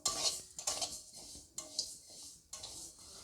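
A spatula stirring mung dal as it dry-roasts in a kadai, giving a repeated rasping scrape against the metal every second or so, soft and close with a faint rattle of lentils and no voices.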